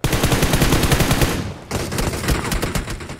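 Rapid automatic gunfire from a firefight in the mobile battle royale game BGMI, played on an iPad Mini 5, rattling in dense bursts, a short pause mid-clip, then continuing loud and close.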